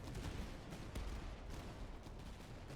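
A musket volley in the Master of Command video game rattles as a dense, continuous crackle of many shots, faint and distant-sounding, with a few sharper cracks standing out.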